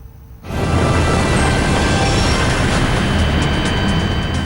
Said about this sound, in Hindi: आज तक ने चीतल हेलीकॉप्टर में बैठकर सियाचिन की बर्फ से ढकी पहाड़ियों के ऊपर उड़ान भरी